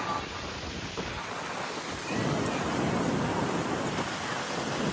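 Ocean waves wash onto a beach at Shrivardhan on the Konkan coast, a continuous broadband roar that swells louder midway, with wind noise on the microphone.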